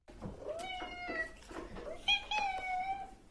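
A cat meows twice in quick succession, close and clear, the second call longer and rising, with no talking.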